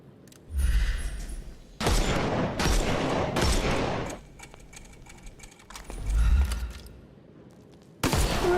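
Loud bursts of gunfire in a Sherlock Holmes video game, fired to shoot off enemy armor, come as several heavy volleys with deep booms and short pauses between them.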